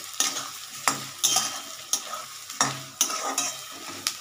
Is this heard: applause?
no